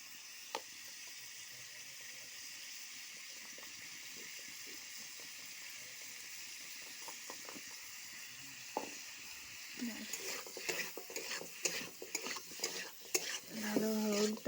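Country chicken pieces frying in a pot over a wood fire, a soft steady sizzle and hiss with a few scattered scrapes, then louder stirring clatter of a spoon against the pot near the end.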